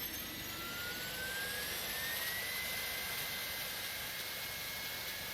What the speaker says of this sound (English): We can actually hear the APU kicking in now behind the aircraft